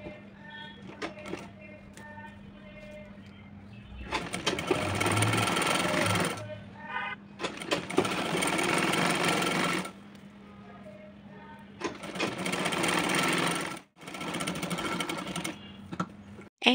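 A sewing machine stitches a pillow cover in four long, loud runs lasting a few seconds each, with a person talking quietly in the pauses between them.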